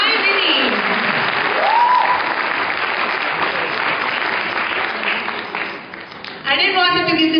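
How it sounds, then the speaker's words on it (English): Dense audience applause fills a hall at an Indian classical dance debut (rangapravesam), loud and continuous for several seconds, with a voice briefly rising over the clapping near the start and talk resuming at the end. "Big round of applause for my Minnie."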